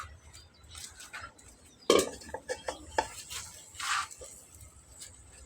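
Chalta pickle is stirred in a pot on a rooftop, with faint scattered clinks and scrapes of a spoon against metal over a low background hum. One sharper knock stands out among lighter taps.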